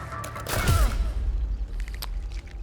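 A shotgun blast in the video game Sons of the Forest: one heavy, booming shot with a brief rumbling tail, followed by a few lighter clicks and thumps of game mechanics.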